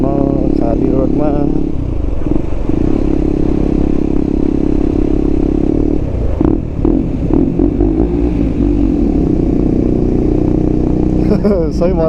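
KTM 250 motorcycle cruising along an empty early-morning road, its engine a steady close drone with slight shifts in pitch and rev, wind buffeting throughout and a rider talking over it.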